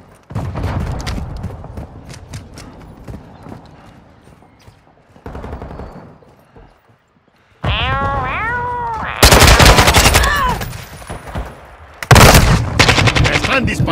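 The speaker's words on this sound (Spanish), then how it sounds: "¡Me están disparando aquí!" Call of Duty MW2 team deathmatch on Al Bagra Fortress, with loud bursts of machine-gun fire and single gunshots coming in close, intense volleys between quieter stretches.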